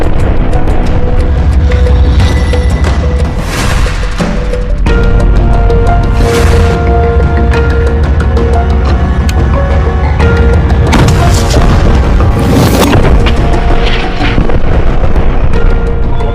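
Anti-tank rockets strike an armoured personnel carrier in war footage from Rafah, with heavy booms and blasts bursting repeatedly over a loud, continuous roar.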